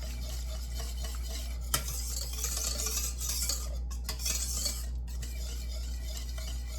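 A spoon stirs milk into a roux in a pan while making mac and cheese, a steady soft scraping and swirling with one sharp clink partway through, heard close with no talking.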